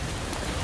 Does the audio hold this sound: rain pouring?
yes